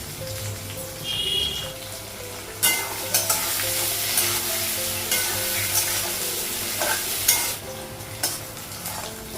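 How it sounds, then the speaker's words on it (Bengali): Potatoes and onions fry in a pan with a continuous soft sizzle, broken by repeated scraping strokes of stirring that come in uneven bursts, close and moderately quiet, with no talking. "আলুটা পেঁয়াজটা ভাজা হয়ে গেছে"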